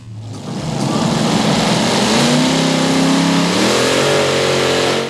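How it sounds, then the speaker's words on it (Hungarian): At a tractor pulling contest, the engine of a giant pulling tractor revs up loud and close. It sends out a sustained roar that rises in pitch and holds for several seconds, with no speech. "Hatalmas gépek, óriási lendület, félelmetes hanghatások."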